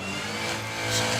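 Supercharged LS V8 in a Morris Minor drag car at a nostalgia drag racing meet, a brief loud engine roar that swells toward the end, heard close.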